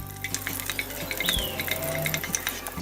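Bay leaves and cardamom sizzle in melted butter in a pan, a close, crackling fry with light scrapes and taps of a utensil against the pan.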